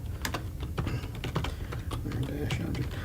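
Steady clatter of typing on a computer keyboard, dense irregular keystrokes close to the mic, with a faint voice in the background.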